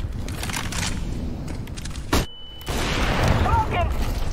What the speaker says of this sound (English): Incendiary!